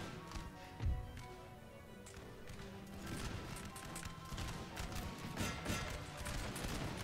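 Musket fire across a Napoleonic battlefield near Cleves, with Prussian units in the fight, game audio: scattered distant volleys crackle in uneven bursts, with sharper pops and a thump near the start.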